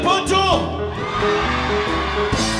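Audience at a live rock band show yells and whoops in loud bursts over steady stage music, the shouts rising and falling across the stretch.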